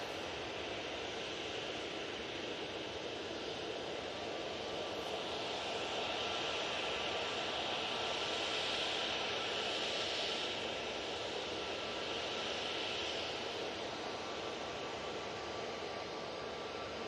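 An airliner arriving from Heathrow touches down at Manchester Airport, its engines a steady, broad roar that swells slightly in the middle and holds throughout, with no talk over it.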